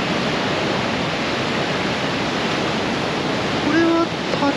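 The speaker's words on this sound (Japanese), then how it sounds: "あ、これ滝なのか。" Niagara Falls' American Falls roars at night as a steady, close, unbroken rush of falling water, with a brief tonal sound near the end.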